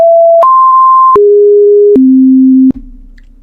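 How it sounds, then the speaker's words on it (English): A sequence of electronic tones steps down in pitch in four or five steady sustained notes, loud and clean, each held about half a second to a second, then cutting off abruptly into a low hum. "Now this is the Summer Triangle central transmission tones."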